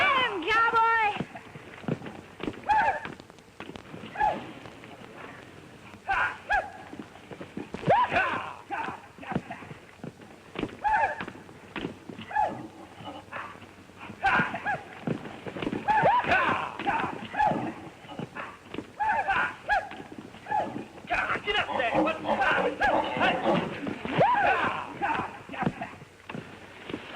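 Horses galloping with a steady clip-clop of hooves in a 1947 western, continuous and mid-distance beneath shouting and talk.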